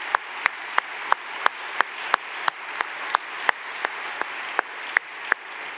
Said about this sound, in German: wir können schon noch mal einen Applaus, ne?